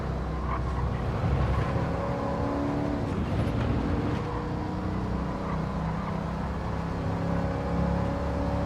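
A steady, continuous engine drone from a racing video game holds throughout at an even level, with no speech.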